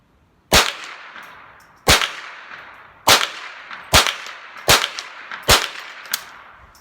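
A Ruger 10/22 M1 Carbine fires .22 rounds at a range, six sharp cracks spaced about a second apart, each followed by a ringing clang from a steel target.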